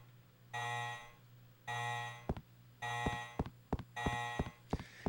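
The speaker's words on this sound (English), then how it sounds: "Now I have to listen to this stupid fucking alarm forever." An alarm bell in the video game Resident Evil Code: Veronica rings in four evenly spaced, loud sustained bursts, with sharp clicks and thuds between them and no talking.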